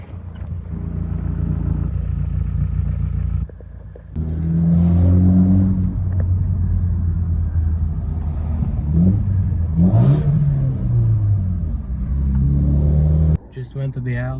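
A V6 car engine fitted with a new muffler revs up and settles repeatedly, a loud close rumble with rising and falling pitch sweeps, broken by a brief drop in sound partway through.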